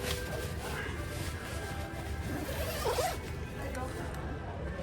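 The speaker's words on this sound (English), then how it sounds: "Zip that back up" A zipper on a budget camping tent door rasps steadily under a constant hiss of background noise, with a brief louder zip near the middle.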